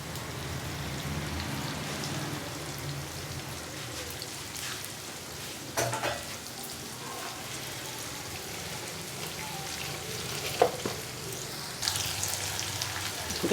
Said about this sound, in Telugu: ఇలాగ వేపాలన్నమాట